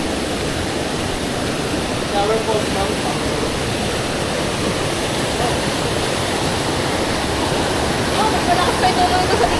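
Ditumabo Mother Falls in Aurora roars as a steady, loud wash of falling water, dense and continuous throughout with no pauses.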